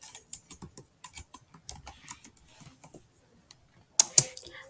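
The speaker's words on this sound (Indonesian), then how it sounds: "Kemudian bisa kita ketik" Someone typing on a computer keyboard nearby, a run of quick, uneven key clicks that slow down and end in a couple of louder taps, with no talking.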